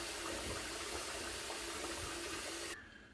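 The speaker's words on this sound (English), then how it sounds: "So I'm going to go ahead and clean up, rinse" Water runs loudly from a bathroom tap for a rinse after a shave, a steady close rush that cuts off abruptly near the end, leaving faint room tone.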